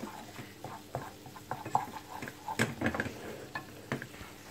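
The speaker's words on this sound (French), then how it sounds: "je vais bien remuer. Éviter qu'elle brûle, donc c'est à petit feu pour que la farine et le beurre ne brûlent pas." Flour and butter stirred in a pan over low heat for a béchamel roux, giving soft irregular scraping and light sizzling with occasional utensil clicks against the pan, close by and moderately quiet.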